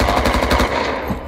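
Sustained loud automatic machine gun fire in the military shooter Squad, a fast, even rattle of shots close by that tails off into echoing battlefield noise.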